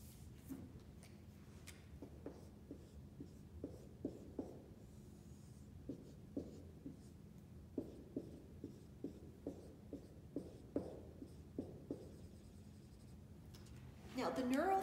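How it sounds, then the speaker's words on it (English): Pen drawing a neuron diagram on paper, a series of soft, close scratchy strokes and taps in an irregular rhythm, faint and quiet throughout. "I'm just going to draw a quick neuron"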